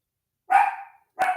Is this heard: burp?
no